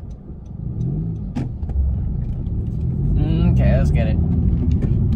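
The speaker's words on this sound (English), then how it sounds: "right now I'm just gonna do a couple pulls and rev matches." Engine of a 10th-generation Honda Civic revving through pulls and rev-matched shifts, a loud, close mid-frequency rumble that rises with a brief rising whine, while someone speaks over it.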